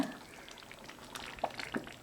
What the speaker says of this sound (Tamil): நல்லா வெந்து கொதித்து வரும்போது மீடியம் ஃப்ளேம் வச்சுக்கோங்க